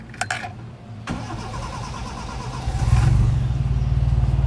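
A Toyota Corolla XE (Bigbody) cranks with a brief starter whir, catches, and settles into a steady, close, rumbling idle that grows a little louder and more even toward the end.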